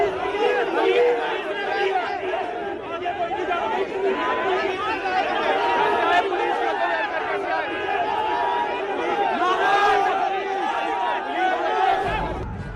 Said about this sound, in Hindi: पुलिस के डंडे चल रहे हैं, भगदड़ मची हुई है। खींचतान हो रही है, बहस हो रही है।